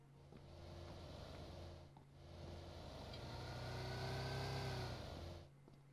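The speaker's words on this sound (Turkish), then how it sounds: "Arabanın sesi geliyor." Within a PUBG Lite match, a vehicle engine drones faintly in the distance, growing gradually louder as it approaches before cutting off abruptly, with no one talking.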